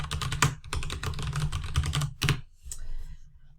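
Rapid clattering keystrokes on a computer keyboard while renaming a Jamboard, a dense burst of close clicks that stops abruptly, followed by a few faint scattered taps.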